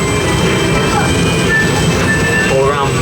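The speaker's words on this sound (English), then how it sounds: "And off we go then. On the monorail." The Lotte World monorail in Seoul runs along its track with a constant loud rolling rumble, a thin whine and faint squealing tones over it, and a bit of background chatter.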